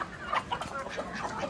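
Hens clucking at a zoo as they are fed grain, several short close clucks scattered over a soft background of birds and rustling.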